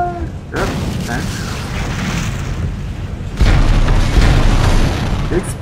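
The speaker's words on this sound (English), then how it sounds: "Explosion!" Loud booming explosion in the Dead Space video game, a deep rumbling blast that sustains for several seconds, then a second heavier burst surges in partway through, close and dominant, with voices talking over it.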